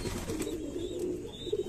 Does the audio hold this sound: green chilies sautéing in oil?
no